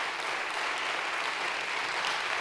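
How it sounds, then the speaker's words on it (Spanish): A church congregation applauds throughout at a Sunday evening service, a steady, dense wash of clapping filling the room with no break and no voices standing out. "Dale un fuerte aplauso entonces a Jesús por eso."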